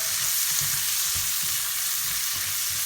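Seasoned vegetables sizzle steadily in a pan as salt and pepper go in, with soft scraping stir strokes scattered through the constant frying hiss, close up and without talk.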